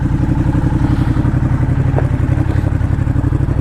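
A Ducati Diavel cruiser motorcycle runs with a steady, loud, close engine throb and mechanical clatter as it prepares to pull away, with no talk.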